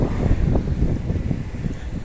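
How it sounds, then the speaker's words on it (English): Strong wind buffeting the microphone in the British Virgin Islands, a constant low rumbling roar throughout with no speech heard. "The weather is still very windy"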